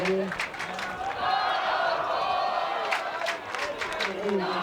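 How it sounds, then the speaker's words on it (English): A rowdy crowd at a men's college championship semifinal between Oregon and Massachusetts roars and cheers steadily throughout, with a commentator talking over the noise. "If this crowd is this rowdy now, what's it going to be like under the lights tonight?"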